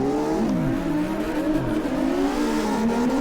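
A car engine revs and wavers through changing pitches as the car drifts in an online racing game, loud and continuous with no talk over it.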